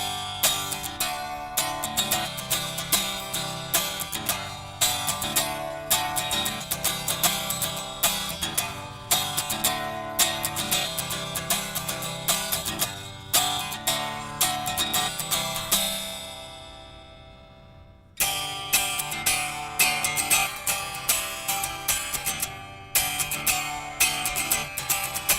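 Unplugged neck-through electric guitar strummed and picked acoustically, giving a thin, bright, jangly tone with continuous chords, a brief pause partway through, then more playing, close and without talking.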